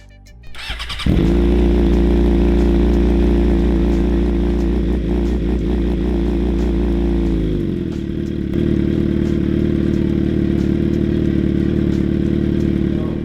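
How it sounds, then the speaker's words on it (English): A 2007 Suzuki GSX-R 750 sport motorcycle fires up with a brief crank, then runs loud and close in a steady, throaty idle that shifts slightly in tone partway through. "This is my 2007 GSXR Suzuki 750."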